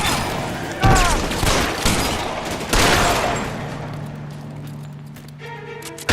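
Gunfire crackles loud and close in an L.A. Noire shootout, with bursts of rapid shots and heavy booms in the first few seconds, then thinning to scattered shots as the din fades.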